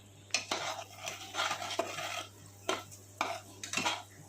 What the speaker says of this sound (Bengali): মশলাটা আমি এবার একটু ভেজে নেবো ভালো করে